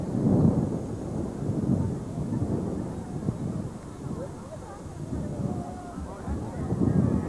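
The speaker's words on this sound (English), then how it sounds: "You can hear the wind in the background just kind of really kicking up." Heavy wind buffeting a microphone at a 1993 college football game, King's College vs Wilkes University, a constant low rumbling roar that swells and dips throughout, with faint voices mixed in.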